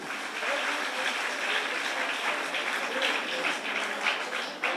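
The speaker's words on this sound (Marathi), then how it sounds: "देवा सगळ्यांनी जोराने टाळ्या वाजवल्या पाहिजे" Audience applause at a night religious discourse gathering, a dense steady wash of many hands clapping throughout, sustained and fairly even in loudness.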